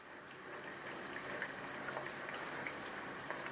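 Chana dal fries in oil in a pan with a dense, steady crackling sizzle and scattered small pops, close but fairly quiet, continuing without interruption.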